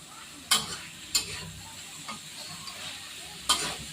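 Chicken giblets with bell peppers and onion are being stir-fried in a pan, with a soft steady sizzle broken by a few sharp scraping stirs.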